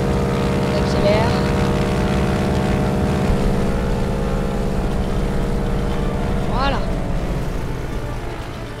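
A propeller warplane engine in World of Warplanes drones loud and steady with rising harmonic whine as it accelerates, while someone speaks over it.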